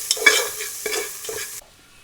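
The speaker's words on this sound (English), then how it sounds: "I'm going to saute the onion more along with this turmeric powder" Onion sautéing with turmeric powder for lamb vindaloo, stirred in a pan with a few scraping sweeps over a soft sizzle, close and fairly loud, ending abruptly in near silence.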